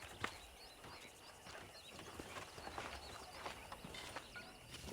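Horse hooves clip-clop steadily at a walking pace in the Red Dead Redemption video game, moderately close, with faint birdsong and ambient ranch sounds behind.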